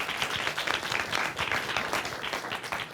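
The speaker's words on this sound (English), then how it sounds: "Give her a round of applause." Audience applause fills a talk event, dense steady clapping from a crowd throughout, fairly close and even with no voices over it.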